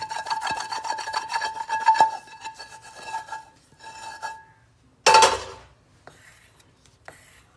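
A spoon scraping a til, peanut, khoya and jaggery barfi mixture out of a pan onto a plate, repeated metallic rasping strokes close by, then a sharp louder scrape and a few quieter taps.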